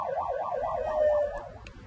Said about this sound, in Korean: 긴급 출동 지령을 받고 나가는 구급차입니다.